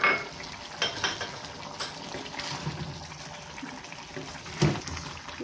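Chicken karahi, street-food style, is sautéed in ghee over medium heat, giving a quiet, continuous frying hiss broken by a few soft scrapes and clinks of the spoon against the pan.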